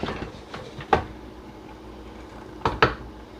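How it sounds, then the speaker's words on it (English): Potato farl dough is stirred with a wooden spoon, giving a few scattered knocks against the bowl, with a clustered pair of louder clacks near the end in a quiet kitchen. "I'm going to use my wooden spoon, and we're going to mix this in."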